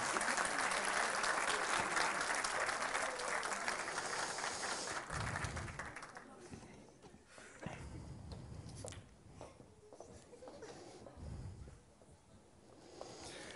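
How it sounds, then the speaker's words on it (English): Audience applause at a startup demo day award, loud and sustained at first, then thinning into scattered claps and low crowd murmur as it fades. "Once more, a big round of applause for the second place winner"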